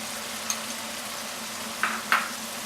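Onion-tomato masala with blended tomatoes, spices and yogurt sizzles softly as it roasts in a pan, a steady low frying hiss with a few brief sharper crackles and spits.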